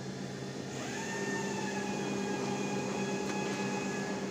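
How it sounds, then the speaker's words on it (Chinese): An exhaust fan runs after power is switched on in an electrical control setup, a steady continuous whir with a constant hum, close and even. "对排气扇没有影响，一直转的很正常"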